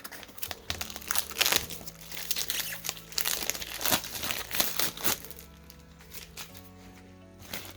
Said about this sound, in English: Let's go ahead and cut this stock filter open.